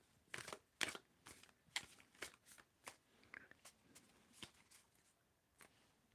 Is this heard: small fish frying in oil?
no